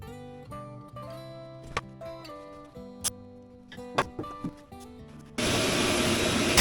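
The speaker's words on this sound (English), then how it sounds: "I get in there with the air compressor line and a vacuum cleaner hose" Work on a 1989 Ford F150 with the plenum removed: clanks, taps and humming tones give way to the loud, steady roar of a vacuum cleaner and air compressor line switching on near the engine.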